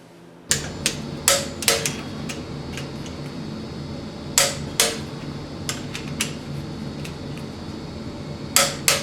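A torque wrench tightens cylinder head bolts on a 1951 Ford flathead engine, giving sharp metallic clicks that come singly and in close pairs over a steady room hum, with no talking.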